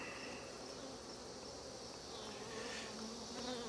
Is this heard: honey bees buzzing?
yes